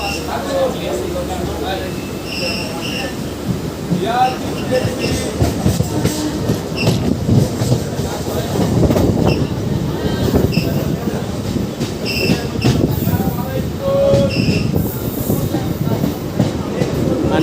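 A Sealdah–Barddhaman local train rumbles along the rails with steady clickety-clack and occasional squeals, heard from inside a carriage with voices talking beneath.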